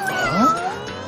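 A cat gives a single drawn-out meow that rises and then bends, close and clear against a quiet background, with no one talking.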